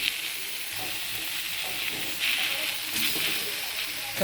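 Onion and tomato frying together in a pan for a mourala fish curry, with a steady close hiss of frying and a few soft stirring scrapes, no voices over it.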